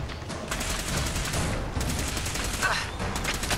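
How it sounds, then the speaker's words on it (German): Sustained bursts of rapid gunfire in Fallout 4, a dense rattling fusillade continuing throughout at a fairly even level, with no clear talking over it. "Wo schießt denn da schon wieder wer?"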